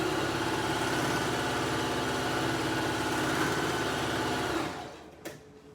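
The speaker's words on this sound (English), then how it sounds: "We'll do a straight stitch." A sewing machine running a straight stitch through bikini fabric, a fast even whirring buzz held steadily for several seconds before it stops abruptly, leaving near silence.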